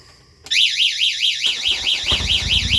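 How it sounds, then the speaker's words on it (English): A Viper 3121V motorcycle alarm sets off a loud, close, continuous warbling siren the moment it receives 12-volt power, cycling rapidly up and down in pitch without pause. "it gets 12 volt power and the system says, oh, look, we got 12 volt, and it instantly sets off the alarm"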